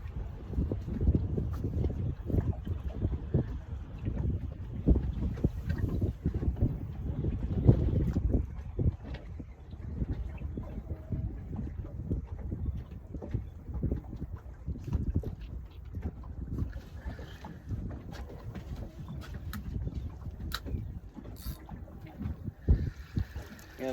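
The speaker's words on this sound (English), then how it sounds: "Got another strong east wind today" Strong east wind buffets a small fishing boat on Crooked River, a continuous low, rumbling roar of wind against the microphone with faint water and hull noise underneath, steady for the whole stretch.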